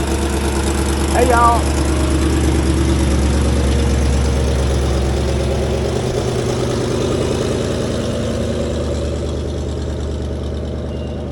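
A 1931 Ford Model A sedan engine idles with a steady low rumble that slowly fades as it moves away, with a brief greeting spoken early on.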